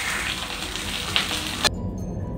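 Stuffed capsicum fries in a pan of oil, giving a loud, dense, continuous sizzle with a couple of small pops before it cuts off abruptly near the end.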